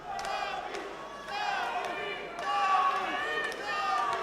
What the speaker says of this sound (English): Crowd getting behind Dawid Panfil